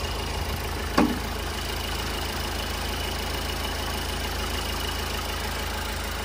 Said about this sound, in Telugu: ఇంజిన్ నాయిస్ చూడండి ఎంత తగ్గింది.